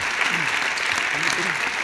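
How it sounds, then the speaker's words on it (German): Applause from the audience at the ADAC Sportgala 2018 for an honorary award winner, a dense, steady wash of clapping that runs loud and continuous for the whole stretch. "Nochmal einen großen Applaus für den Ehrenpreisträger Charlie Lamb."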